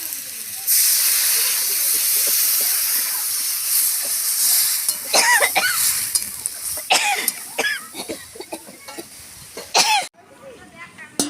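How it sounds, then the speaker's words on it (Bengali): Water poured into a hot pan of fish curry with chilli, giving a loud hiss and sizzle that fades over several seconds while someone talks over it. "এবারে জল দিয়ে দিচ্ছি।"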